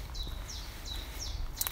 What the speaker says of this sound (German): Man hört die Vögel zwitschern.